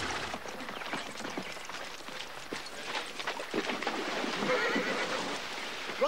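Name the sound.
horses neighing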